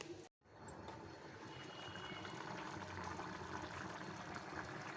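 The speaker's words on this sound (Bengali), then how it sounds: "আর এইটার মধ্যে আমি জল দিয়ে, আর একটু জল ওখানে দিতে হবে, জল দিয়ে ধুয়ে দিয়ে ফিরে আসছি।" Water runs steadily into a cooking pot to rinse it, a continuous hissing splash with a short break near the start, in a Bengali kitchen making festive bhog khichuri.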